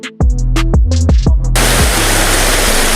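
Rushing floodwater pours across a farm field after heavy rain, a steady loud broadband roar that cuts in abruptly after a few low tonal notes at the start and then holds unbroken to the end.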